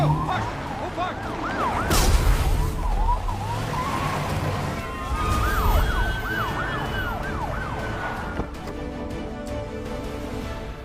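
An ambulance siren wails through repeated rising and falling sweeps, with traffic rumble and bursts of commotion around it and voices occasionally audible beneath.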